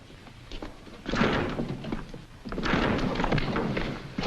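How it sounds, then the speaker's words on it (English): Heavy thuds and crashing bangs of a door being forced and broken down in an old radio serial drama, two loud bursts of impacts with a rumbling, noisy build between them. "Stand back. We're going to break down the door."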